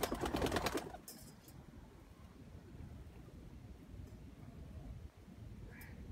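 Teddy pigeons cooing softly at a loft, low murmuring coos repeating under steady wind and background noise, with a brief louder rustle at the start.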